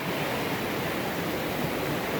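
Steady broadband rush of Deep Creek, a mountain stream flowing right beside a hiking trail near Cherokee after a rainstorm, close and continuous with no talk.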